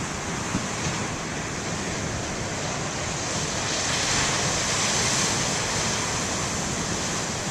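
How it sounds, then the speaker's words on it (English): Ocean waves break on the shore as a loud, continuous wash of surf noise that swells slightly midway, with no voices. "Thought the waves would be really big today because there was a lot of wind yesterday."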